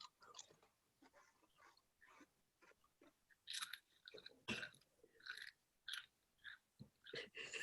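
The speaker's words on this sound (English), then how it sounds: "all I could hear was Christina chomping on her chips" Christina chomping on chips, with loud crunchy bites and chewing in irregular bursts that grow louder and denser in the second half, close to the mic. A quiet room sits between the chews.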